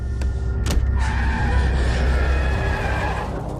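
A car in a film braking hard and skidding, loud tire squeal holding steady for several seconds over low engine rumble, with a couple of sharp knocks at the start.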